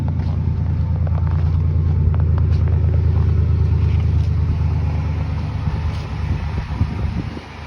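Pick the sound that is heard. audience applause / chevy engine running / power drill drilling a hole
chevy engine running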